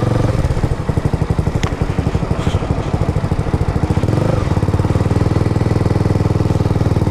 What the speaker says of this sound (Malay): aku rasa yang bunyi, kalau tak silap aku bunyi dua silinder